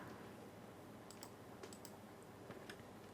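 Typing on a computer keyboard, a series of light, quick key clicks in uneven bursts, close but quiet over a low background hum.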